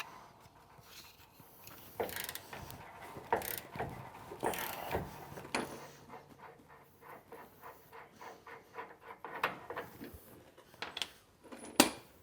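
A nut being removed from a rear leaf spring bolt with a ratchet, giving irregular bursts of metallic clicking and clanking, close and moderately quiet, with short pauses between bursts and no talking.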